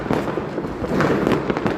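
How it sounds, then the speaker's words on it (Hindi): Dense crackle of firecrackers and fireworks going off during a Diwali celebration at a new home, continuous overlapping pops and bursts, loud and close throughout. "अभी पटाखा छोड़ने में हम सब खूब इंजॉय कर रहे हैं"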